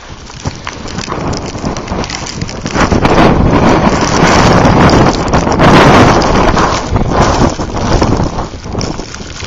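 Strong blizzard wind in Wichita Falls, Texas, roars and buffets the microphone in steady gusts. It builds to a louder, sustained blast through the middle before easing slightly, with no voices.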